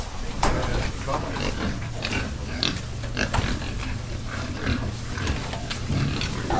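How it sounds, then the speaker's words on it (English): A room crowded with young pigs on a Danish farm, with constant grunting and squealing from many animals at once, some sharp squeals standing out, and a low mechanical hum beneath. "In this room there's 360 pigs."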